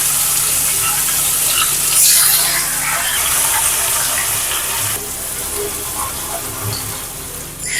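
Marinated chicken drops into hot oil with bay leaf, cinnamon, cardamom and cloves, setting off a loud, continuous rushing sizzle close by that stays dense throughout and eases slightly near the end.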